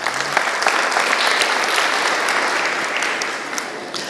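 A church audience claps loudly and continuously for a brother said to have been healed after 38 years of illness, a dense, even roar of applause lasting throughout with no voices standing out.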